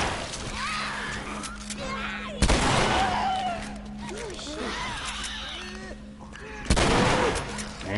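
Gunfire in The Last of Us: two sharp, loud shots a few seconds apart stand out over a steady game ambience and a voice talking throughout.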